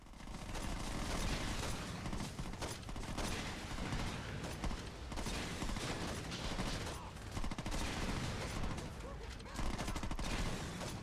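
Rapid bursts of gunfire and explosions from the Saints Row 2 video game on PS3, dense and continuous at close range throughout, with game effects layered under the shooting.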